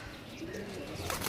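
Rare pigeons from Gujarat coo softly in a brief, low burble, with faint chirps and a little background noise around them.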